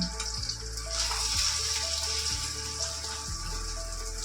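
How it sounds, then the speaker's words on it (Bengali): Eggs frying in a pan give a steady, close sizzle and crackle that runs the whole time at an even level, with a few faint low thumps and no talking. "ডিম ভাজছি এখন"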